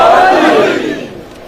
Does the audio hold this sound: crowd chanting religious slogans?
yes